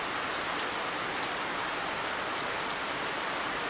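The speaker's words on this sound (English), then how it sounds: "Rain filled the sky as far as the eye could see." Steady, dense rainfall in the game Tokyo Babel, a constant hiss of drops hitting surfaces at even loudness throughout, with no voices or other sounds.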